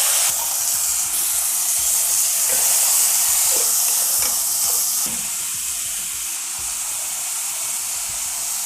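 Two large, finely chopped tomatoes fry in a pan with cumin powder, giving off a continuous loud sizzle and hiss, with occasional stirring scrapes and no talking.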